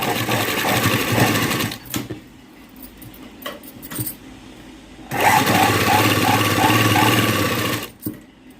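A sewing machine stitches a blouse in two loud, rapid bursts of rattling stitches separated by a quieter pause with small clicks and handling noises.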